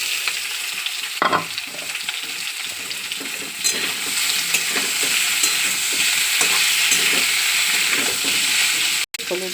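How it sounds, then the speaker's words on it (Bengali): Potatoes and soybean chunks with cardamom and chopped onion fry in a pan for a spicy soybean dish, giving a steady close sizzle with occasional stirring scrapes. "দিচ্ছি একটু এলাচ, দিচ্ছি পেঁয়াজ কুচি, তো দিয়ে দিচ্ছি আলু সয়াবিনটা,"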